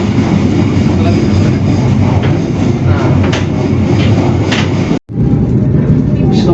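The Tegal Bahari passenger train with a Progo trainset rumbles loudly and steadily on the rails from inside the carriage. Clicks and rattles come through, with a brief drop near the end.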